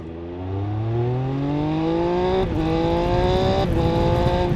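A Triumph Speed Triple 1200 RS motorcycle engine revs hard in first gear, its pitch climbing steadily in two long pulls with a brief dip between them, loud and close.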